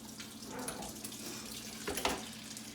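Mixer beaters rinsed under a running kitchen tap, a steady close stream of water splashing into a sink with a brief louder splash near the end.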